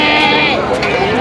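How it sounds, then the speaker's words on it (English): Little goats bleat close by at a zoo in Mexicali, Baja California, giving a loud wavering cry over a busy background of visitors' chatter. "Got a lot of little goats."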